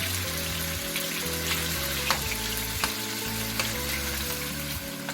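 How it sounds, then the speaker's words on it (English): Chopped chicken pieces frying to a medium brown in a pan for a coconut-milk chicken curry, giving a steady, close sizzle and crackle throughout over faint background music. "Our chicken is frying."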